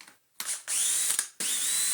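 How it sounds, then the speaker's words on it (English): Cordless power driver fitted with a Torx T15 bit, undoing screws on a Dyson DC25 vacuum: two short whirring bursts with a click between, close and fairly loud. "T15, you stick it in your driver and then you undo these 3 screws"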